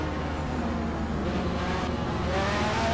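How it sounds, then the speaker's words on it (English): Ferrari, Porsche and Corvette GT3 race cars at Silverstone in a racing game give off a steady, loud engine drone with rising whine, held at close range with no gaps. "It's a Ferrari, a Porsche, and a Corvette."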